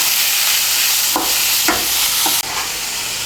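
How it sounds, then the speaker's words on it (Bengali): Radish greens stirred in hot oil in a pan, a steady sizzle broken by a few distinct scraping strokes of the spatula, close and loud with no voices. "মূলো শাকটাকে মিশিয়ে নেব ভালো করে তেলের সঙ্গে।"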